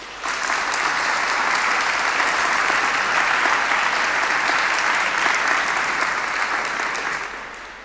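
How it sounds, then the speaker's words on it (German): A crowd gives sustained applause for the builders of a domino world-record attempt, a dense, even roar of clapping that holds strong for several seconds before tapering off at the end. "ganz großen Applaus verdient"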